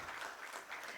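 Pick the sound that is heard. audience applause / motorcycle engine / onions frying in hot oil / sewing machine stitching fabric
audience applause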